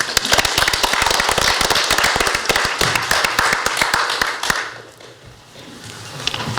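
Audience at a West Vancouver school board trustee all-candidates meeting applauding a speaker: a loud, dense burst of clapping that thins out and fades after about five seconds.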